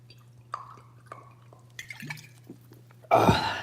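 Water is poured during a painting session: a few soft, spaced drips, then a short, louder splashing pour near the end, close by in a quiet room.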